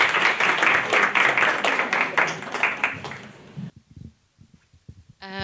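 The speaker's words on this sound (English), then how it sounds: "Can we have a hand of applause to Jumandi again?" A conference audience claps in a dense burst of applause that gradually thins out and stops after about three and a half seconds, leaving a few scattered sounds and a short tone at the end.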